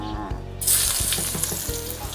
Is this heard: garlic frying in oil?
yes